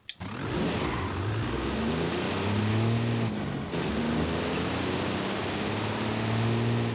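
Nissan Safari Turbo engine in Forza Horizon 5 revving and droning steadily for about seven seconds, with rising and falling harmonic tones and a brief dip near the middle, loud and close with no talk.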